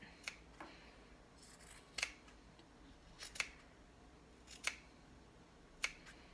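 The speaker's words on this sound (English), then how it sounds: "use just the tip of my scissors and I go down until it's at that little archway" Sewing scissors snip fabric in a few short, sharp clicks spaced a second or so apart, the tips making small cuts, heard close and fairly faint against a quiet background.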